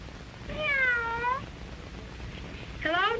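A cat meows twice, close and clear, a drawn-out falling meow and then a shorter one, over a faint background hiss.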